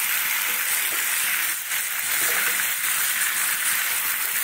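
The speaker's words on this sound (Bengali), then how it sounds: "দেখো কষানো হয়ে যাচ্ছে" Meat sautéed down with bay leaf and coriander leaves, kasha style: a loud, dense sizzle that hisses close and continuous for the whole stretch, with no talking.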